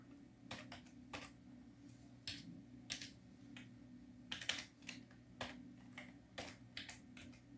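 Quiet keystrokes tapped on a computer keyboard come in short irregular bursts of separate clicks over a low steady hum, faint and close by.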